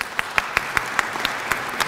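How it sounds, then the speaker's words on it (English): Applause from the audience at a 100th anniversary of Albania event in Washington, a dense wash of many hands clapping steadily at moderate volume, with sharper individual claps standing out. "praise and applause."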